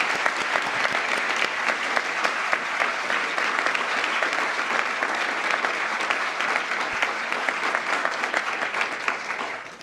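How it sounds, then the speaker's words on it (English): Sustained audience applause at a formal ceremony honoring First Lady Melania Trump, a dense, steady wash of many hands clapping for about ten seconds without a break. "Please, another round of applause."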